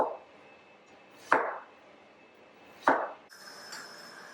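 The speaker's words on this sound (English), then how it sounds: "For the okra, what I'm doing on these today, I'm just cutting off just the top, just enough to get the bit of stem off." A knife trims the stem tops off okra among other vegetables, giving two crisp, separate chops on a board with quiet pauses between them and no talking.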